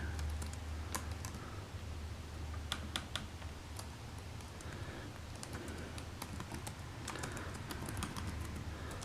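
Quiet, steady clicking of a computer keyboard as a name is typed, irregular light keystrokes over a low hum, with no talking.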